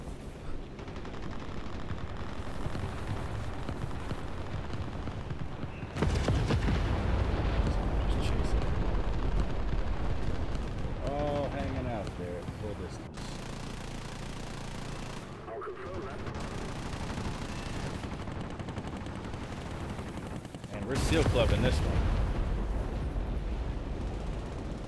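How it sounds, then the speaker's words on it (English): Gunfire and explosions from the War Thunder combat game, a dense continuous roar of shots and blasts with heavier bursts coming in waves, loud and close throughout with some talk mixed in. "Those guns again."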